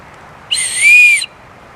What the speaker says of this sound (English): I think this is a rape whistle.